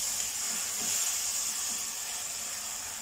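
Chicken macaroni pasta sauce with vinegar and soy sauce simmering in a pan, giving a steady, even hiss and sizzle that holds at the same level throughout with no talk.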